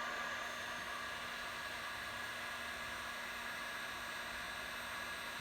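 Hot air plastic welding tool blowing steadily while melting a crack in a pool filter housing lid, a continuous close airy hiss that holds even throughout.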